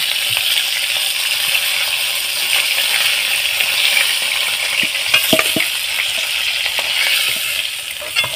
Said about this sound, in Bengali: দেখুন, এইভাবে আমি লাল লাল করে ভেজে তুলে নেব।